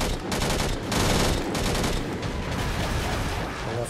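Sustained enemy gunfire on a drop pod in the sci-fi shooter Angels Fall First, with dense, rapid overlapping shots that are loud and continuous throughout and have no talk over them.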